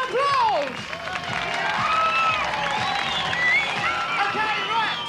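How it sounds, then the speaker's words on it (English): Crowd applause and cheering at an 1980s BMX event, a steady wash of clapping and shouts that runs the whole stretch under an announcer's voice. "Give them some applause!"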